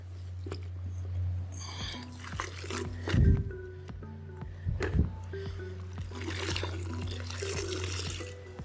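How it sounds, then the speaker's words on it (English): A microfiber towel wipes a wet car treated with Loki Hybrid Wash, giving close, soft squishing and damp smearing sounds with a couple of stronger wet swipes over a steady low hum. "finding a good balance of how much liquid to leave in the double flip as I wipe it down here"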